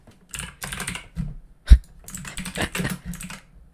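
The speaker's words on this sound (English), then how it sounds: "And then we can type" Bursts of typing on a computer keyboard while coding a Discord music bot, close and crisp key clatter in quick clusters separated by short pauses, with one sharper thump partway through.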